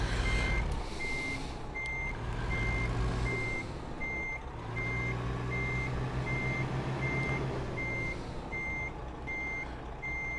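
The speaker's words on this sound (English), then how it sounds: "This is the truck alarm." Steady reversing-style alarm beeps from a truck in American Truck Simulator, a regular chain of short tones over a continuous low engine rumble, with no talking.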